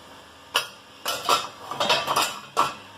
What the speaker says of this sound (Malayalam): സ്പേസ് സേവിങ് ആയിട്ട് കഴിയുന്നതും ശ്രദ്ധിച്ചിങ്ങനെ വെച്ച് കഴിഞ്ഞാൽ ഒരുപാട് പാത്രങ്ങൾ നമുക്കിങ്ങനെ വെക്കാൻ പറ്റും